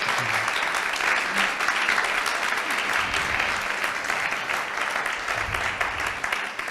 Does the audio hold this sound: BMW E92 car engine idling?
no